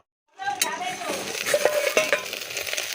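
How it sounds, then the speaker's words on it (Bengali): Okra (bhindi) fries in a pan in a home kitchen: a sudden sizzle starts after a moment of silence, then continues with light scraping and clinking of a utensil stirring, close and fairly loud. "ভেন্ডি ভাজাটা বসিয়ে দিয়েছি"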